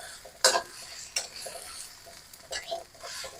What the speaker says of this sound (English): now I'm going to put my eggplant in. I'm going to keep this moving